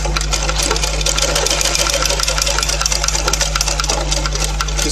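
A sewing machine stitches a frock in a loud, continuous, fast mechanical whir with steady rapid needle clatter and a low motor hum, close up and without talking.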